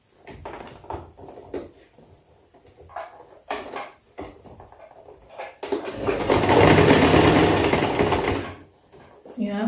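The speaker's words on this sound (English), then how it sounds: "And we start sewing." A sewing machine stitches a two-piece shirt collar, starting after a few scattered clicks and fabric handling, then running in one loud close continuous burst for about three seconds before stopping.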